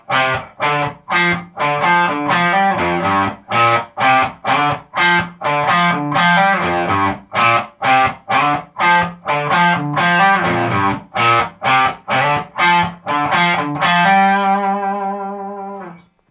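Electric guitar plays the riff with a slightly distorted tone, a repeating syncopated chord pattern that is loud and close, ending on a held chord that rings out.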